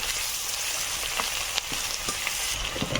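Bay leaf, onion and garlic fry in hot oil for a Bengali fish and greens dish, giving a steady close crackle with scattered sharper pops and faint stirring, no voices.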